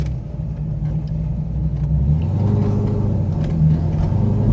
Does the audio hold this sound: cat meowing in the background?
no